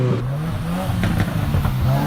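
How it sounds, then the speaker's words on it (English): A 2018 Subaru WRX boxer engine rumbles up close with a steady, throaty exhaust burble that rises and dips slightly throughout. "design of the boxer motor, it has this really cool Subi rumble to it that just sounds awesome"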